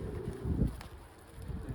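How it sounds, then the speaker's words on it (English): Strong wind buffeting an outdoor microphone in low rumbling gusts, steady and close, with faint bird sounds in the distance and no talk. "It is really windy, guys, really windy"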